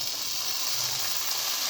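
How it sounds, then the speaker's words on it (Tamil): Chopped carrots and beans hitting hot oil and sautéed masala for a vegetable kurma, giving a steady, even sizzle and hiss that holds throughout with no voices. "இந்த ஸ்டேஜில் நறுக்கி வச்சுருக்கிற கேரட் பீன்ஸ் சேர்த்துக்கிறேன்."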